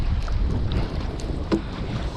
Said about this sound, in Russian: С таким ветром бесполезно.